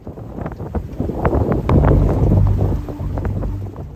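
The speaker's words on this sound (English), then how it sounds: "the next the wind picks up and the waves get higher" Wind gusts buffet the microphone and waves slosh and crash around a sailing boat in a rough sea, loud and close, swelling to a heavy surge midway with no voices.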